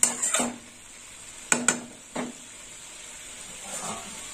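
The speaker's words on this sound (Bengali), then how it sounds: "একটু নেড়ে চেড়ে চাপা দিয়ে দেবো" Vegetables are stirred with a few sharp scraping clatters of a utensil against a pan, followed by a lid being set down, over a faint steady background hiss; no talking.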